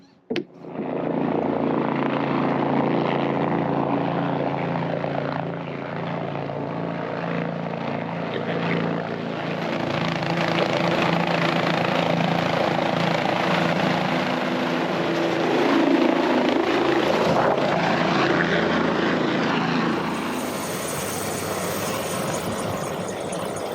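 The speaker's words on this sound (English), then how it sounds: "Once the helicopter takes off, you can come in the hut." A helicopter spools up and lifts off near Greenleaf Hut below Mount Lafayette in the White Mountains, its engine and rotor roaring loud and close in a steady, swelling drone that holds for over twenty seconds.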